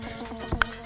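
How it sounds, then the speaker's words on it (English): A bee buzz sound effect from a Destiny video game mod menu gives a brief insect-like burst of under a second, loud and close, set against a steady background hum. "bee,"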